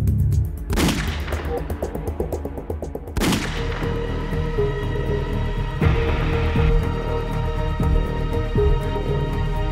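Two loud, sharp gunshots ring out a few seconds apart in a crowded market, each leaving a booming echo that fades into a dense rumble.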